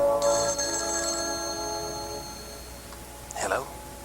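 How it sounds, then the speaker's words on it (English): A telephone rings with one sustained bright electronic bell tone that lasts a few seconds and then stops, followed by a brief voice near the end. "Suddenly the phone rang."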